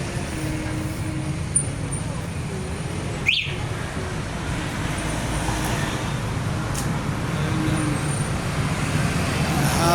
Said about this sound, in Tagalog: medyo matraffic po ngayon guys